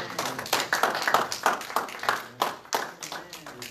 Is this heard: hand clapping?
yes